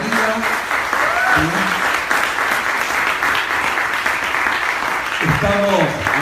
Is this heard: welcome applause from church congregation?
yes